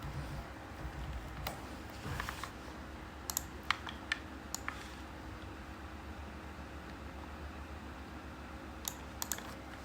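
Quiet, scattered clicks of typing on a computer keyboard, short bursts of keystrokes over a steady low background hum with no talking.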